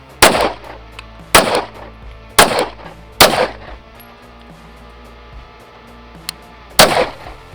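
Five loud, sharp pistol shots from a Raider 365 fitted with a 6-inch barrel ring out at uneven intervals, each leaving a brief echoing tail over quiet outdoor ambience.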